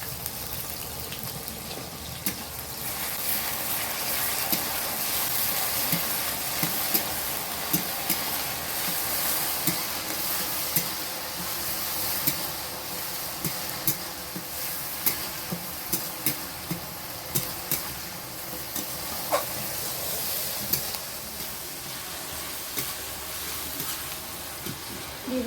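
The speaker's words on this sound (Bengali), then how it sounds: "টমেটো ভাজা হয়ে এসছে" Tomatoes fry in a pan with a soft, continuous sizzle, broken by light scraping stirs and occasional small clicks, with no talk.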